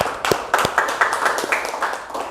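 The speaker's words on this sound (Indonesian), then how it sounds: "Tepuk tangan dulu buat mereka." A small audience claps at an Indonesian martial arts anniversary event, a sparse, irregular patter of close handclaps lasting a couple of seconds.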